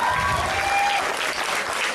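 Dense, loud applause from a dinner-and-dance audience fills the room continuously, with a few faint whistles rising above the clapping.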